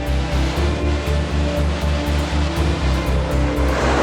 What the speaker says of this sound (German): Hier direkt neben der Straße ist so ein richtig nicer Wasserfall.